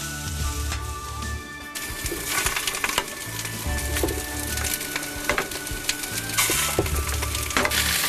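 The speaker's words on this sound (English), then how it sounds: "Fry the onions in butter until they're brown." Onions frying in butter in a small frying pan, a steady close sizzle with soft crackles and occasional stirring clatter throughout.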